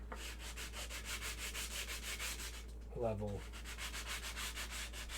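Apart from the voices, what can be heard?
sanding costume part with 220 grit fine sandpaper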